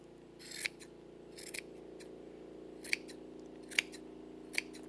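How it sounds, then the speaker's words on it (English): Scissors snip through a yarn pom-pom, shaping it with about five crisp, irregularly spaced cuts over a steady low background hum. "So all you have to do is start trimming it up."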